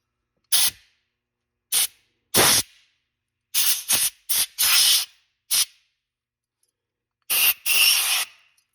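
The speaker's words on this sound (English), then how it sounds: "if you have access to an air nozzle, and you're going to want to blow" Compressed air nozzle blowing out the orifices of a snowmobile carburetor, giving about ten sharp hissing bursts of varying length with silent gaps between, loud and close, the final bursts longer.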